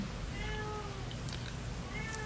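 A domestic cat meows several times in short, rising calls, fairly close and clear over a low steady background hum, with no talking.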